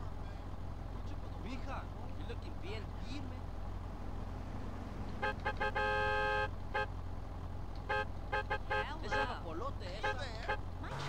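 Car horns honking at the player's car in the GTA San Andreas video game, two bursts of sustained, blaring beeps over steady traffic and engine hum.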